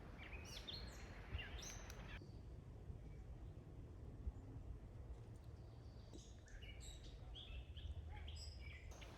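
Wild birds chirp at a campsite in Hills Creek State Park, their faint, scattered calls rising over a steady hiss of outdoor background noise.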